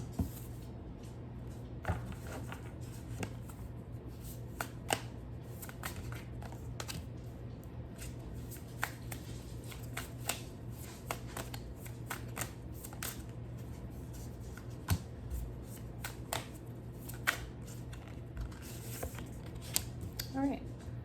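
Tarot cards shuffled and drawn in a quiet room, a run of soft flicks, slaps and riffles scattered irregularly beneath a person talking.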